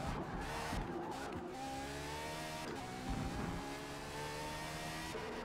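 An untuned Ferrari 599XX or Pagani Zonda Cinque in Forza Motorsport, its engine droning and revving steadily through shifting gear pitches over a continuous road roar, with no talking.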